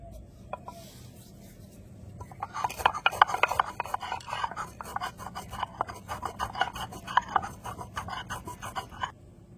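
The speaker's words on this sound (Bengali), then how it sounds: "এলাচগুলোকে গুঁড়ো করে নেব।" Cardamom seeds with the husks removed being ground to powder for a Bengali pantua pitha, a steady gritty rasping and rubbing that starts quietly and grows busier, close and fairly loud, with no talk.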